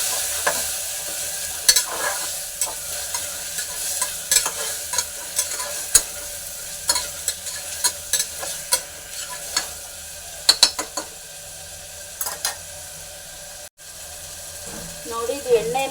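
Freshly ground spice paste frying in oil and being stirred, with a continuous sizzle punctuated by frequent spoon taps and scrapes against the pan throughout.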